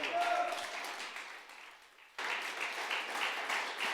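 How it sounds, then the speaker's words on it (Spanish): A church congregation applauds during a Spanish-language sermon, a dense wash of clapping with some voices mixed in that fades slightly, then resumes at full strength midway. "Denle un aplauso al Rey de Reyes."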